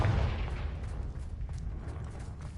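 Confringo spell blasts in the PS5 video game Hogwarts Legacy, a quiet muffled boom at the start followed by a fading low rumble and faint crackling effects.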